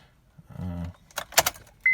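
Keys jangle briefly near a 2009–2010 Honda Pilot: a short metallic rattle and a few clinks, followed by a sharp electronic tone from the car as the key goes on.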